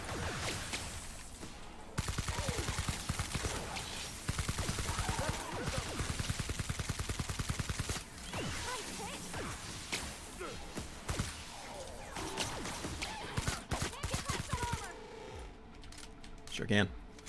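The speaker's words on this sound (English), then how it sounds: "Oh, this gun is so weak." Rapid bursts of gunfire from a weak gun in The Outer Worlds video game, several sharp volleys and shot runs spread across the stretch, with busy game sounds between them.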